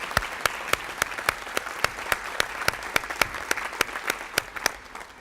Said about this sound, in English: Please join me in a round of applause for both the Waco High JROTC Color Guard and Christian Bogus from Alta Vista Elementa